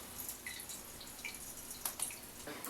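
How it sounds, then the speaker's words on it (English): Merlot wine from a kit flows through a siphon into a secondary fermenter, a faint steady trickle with small drips and splashes, quiet and close, with no talking. "So the wine is now flowing down into the secondary fermenter."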